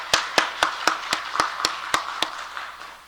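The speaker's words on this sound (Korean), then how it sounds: "우리 한번 박수 한번 하도록 할까요?" Church congregation clapping in time, about ten crisp, evenly spaced claps that are moderately quiet and fade slightly toward the end, with no talking.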